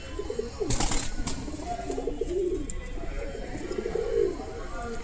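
Pigeons coo in low, rolling murmurs through the clip, with a brief burst of wing flapping early on and faint background chatter.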